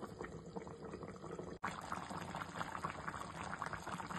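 Chicken curry simmers in a covered pot, quiet steady bubbling and gurgling, briefly interrupted once before carrying on.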